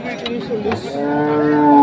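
A cow at a cattle market selling local-breed beef bulls lets out a loud, close moo that swells and holds steady toward the end.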